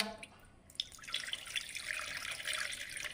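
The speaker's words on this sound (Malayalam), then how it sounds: "ഒരു കപ്പ് വെള്ളം ഒഴിച്ചിട്ടുണ്ട്" A cup of water poured into a saucepan while making tender coconut ice cream, a soft close splashing trickle lasting a couple of seconds after a brief quiet start.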